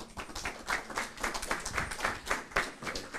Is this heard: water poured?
no